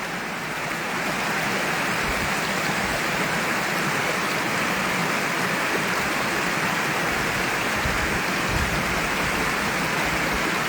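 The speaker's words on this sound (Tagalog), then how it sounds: "Dito naman sa may bukana ng ilog" Water rushes steadily at the mouth of a river at a fishing spot, a loud, dense, unbroken roar close by with no pauses and no voices.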